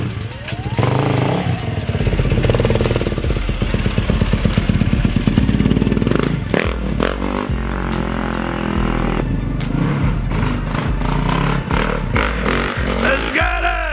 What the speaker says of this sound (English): He's gonna rip a wheelie real quick on the bike.